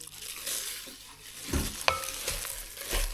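A spoon stirs cassava cake batter with evaporated milk in a bowl: soft, uneven scraping and sloshing strokes, fairly quiet and close, with one brief clink of utensil against the bowl.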